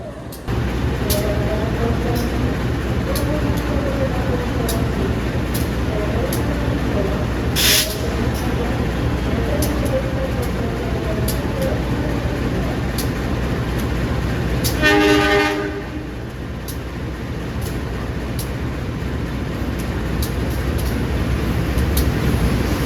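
A passenger train rumbles steadily into Lempuyangan station in Yogyakarta, Indonesia, with rhythmic wheel clatter and squeals, a sharp burst of air hiss midway and a brief horn note, while people talk nearby on the platform.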